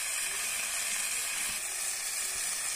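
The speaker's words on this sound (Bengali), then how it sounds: "এগুলোর মধ্যে আমি কয়েকটা রসুন দিয়ে দেবো, রসুনগুলো আমি আগে থেকে একটু থেঁতো করে রেখে দিয়েছি" Crushed garlic sizzles in hot frying oil for a leafy greens fry, a loud steady hiss with crackle close by and no voices.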